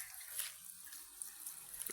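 Water trickling from an outdoor tap beside a freshwater swimming pool in a natural setting, a soft steady hiss and splash with faint drips, fairly quiet and continuous.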